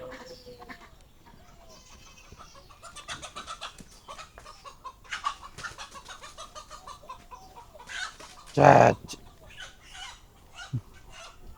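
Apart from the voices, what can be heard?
chickens clucking in a village yard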